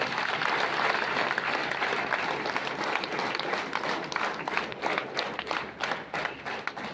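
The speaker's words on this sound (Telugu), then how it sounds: "గ్రాండ్గా అప్లాజ్ చేద్దాం ఒకసారి మనం" Loud, sustained applause and clapping from the audience at a Vestige business meeting in Yadagirigutta, filling the room and thinning slightly toward the end into more distinct individual claps.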